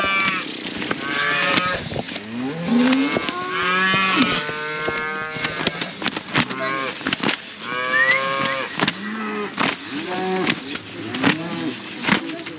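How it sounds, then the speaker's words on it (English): Cattle moo repeatedly and loudly up close as the herd returns, with overlapping calls in varied pitches, while someone shouts to drive them along. "The cows are coming back."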